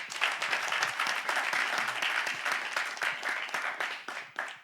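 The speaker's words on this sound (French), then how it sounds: "On applaudit pour Ahmed Dada." A crowd at an event bursts into brisk, dense applause, a steady wash of many hands clapping close by that tapers slightly near the end.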